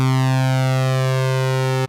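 A sustained synthesizer tone from two slightly detuned oscillators with analog drift, bright and buzzy with a slow phasing shimmer. It holds steadily at constant loudness for nearly two seconds, then cuts off abruptly.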